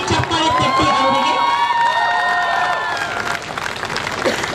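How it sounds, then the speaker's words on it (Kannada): A large crowd at a convocation ceremony claps loudly and cheers for their parents, a dense, sustained roar of applause with raised voices and shouts mixed in, easing slightly toward the end. "ಮೊದಲು ಜೋರಾಗಿ ಚಪ್ಪಾಳೆ ತಟ್ಟಿ ಅವರಿಗೆ"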